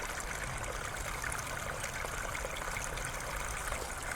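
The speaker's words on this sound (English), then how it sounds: "in the distance, if you listen really carefully, you can hear the sounds of a raging river" A river heard from a distance gives a soft, steady rush and trickle of flowing water that stays even and continuous with no other sounds.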